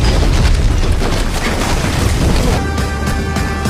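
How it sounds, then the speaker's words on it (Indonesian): A bomb thrown in front of a door detonates in an Indian action film scene. A loud, sustained roar of blast and debris fills the entire stretch, with rumbling lows and a crackling tail. "menyalakan bom yang dilempar di depan pintu hingga meledak"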